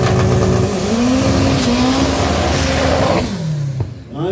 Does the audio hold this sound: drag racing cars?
yes